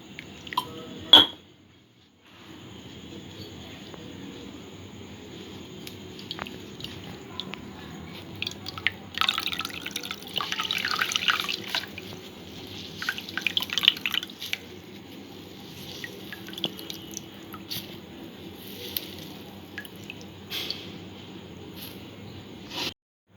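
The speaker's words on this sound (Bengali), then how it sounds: "সামান্য আরেকটু জল দিয়ে আর একবার ছেঁকে নেব" Coconut milk is strained, with soft dripping and squishy wet sounds of pressed pulp, one loud knock early on and a busier spell of trickling liquid midway, fairly quiet and close.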